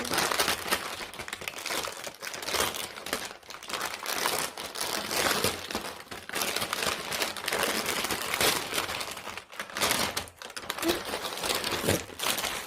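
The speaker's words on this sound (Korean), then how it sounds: "이제 저 한번 뜯어볼게요" Packaging around Sanrio Pochacco merchandise is torn open and handled at close range, with continuous crinkling and crumpling plastic and paper sounds in irregular bursts.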